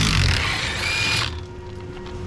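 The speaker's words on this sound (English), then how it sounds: "now bolts are coming out" A power tool whirs loudly for about a second, loosening bolts on a Scania truck, then cuts off, leaving quieter workshop background noise.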